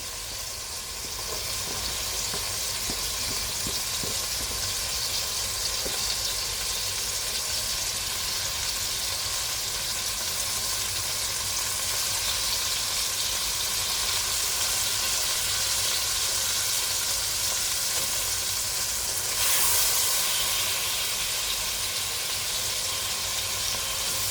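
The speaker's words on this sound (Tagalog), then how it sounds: "Lagay tayo ng konting mantika. Lagyan natin ang bawang." Garlic sizzles steadily in hot cooking oil for a Filipino sautéed cabbage dish, a dense continuous crackling hiss holding at a constant level throughout, with a brief louder flare near the end and no talking.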